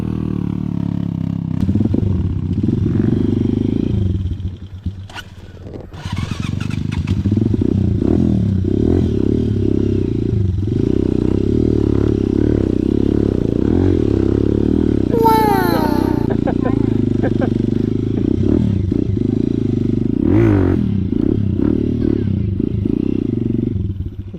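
A motorcycle engine runs steadily and loud up close, rising and straining with clattering and scraping over rough ground, with voices talking now and then.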